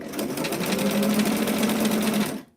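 Sewing machine stitching the facing of a 90s vintage gown with a sweetheart neckline, a close, loud, rapid whirring run of about two and a half seconds that cuts off abruptly.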